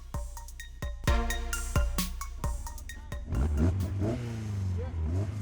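British sports car on a track lap, its engine revving up through the gears with sharp rising sweeps and gear-change breaks, loud and close, with in-car voices over it.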